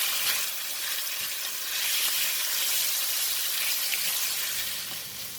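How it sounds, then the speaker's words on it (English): Pork sizzling in hot oil in a wok with browned garlic, a steady close frying hiss that swells and eases slightly as it is stirred, with no talk. "I'm going to put in the pork. And we're going to stir fry."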